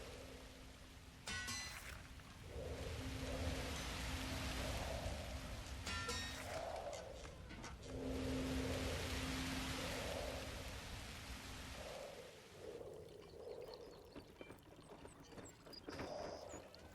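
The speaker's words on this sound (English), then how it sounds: "It's really raining over there." Rain in the video game The Universim: a steady hiss of rainfall with soft rumbling underneath, rising and falling over seventeen seconds, with a few brief clicks and no talk.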